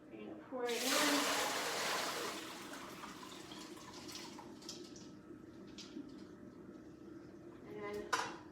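Soaked buckwheat and water pour into a kitchen strainer with a loud rushing splash that tapers into trickling and dripping, followed by faint clinks.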